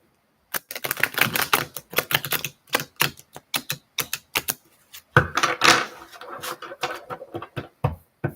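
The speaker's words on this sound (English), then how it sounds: "It's like I forgot how to shuffle." Tarot cards being shuffled by hand, giving uneven bursts of crisp riffling and tapping with short pauses in between, close and fairly loud.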